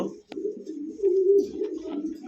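Domestic pigeons offered for sale, including a sky-blue pair with two chicks, coo softly and continuously at close range.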